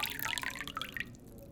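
Water is poured into a glass nearby in a quiet indoor setting, a short burst of gurgling, splashing trickles that tapers off.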